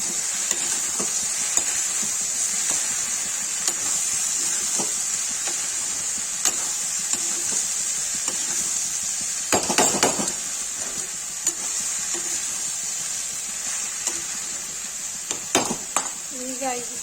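Sliced okra (bhindi) frying dry with turmeric and red chili powder, a steady bright sizzle with occasional spoon scrapes and stirring clatters against the pan, close and continuous.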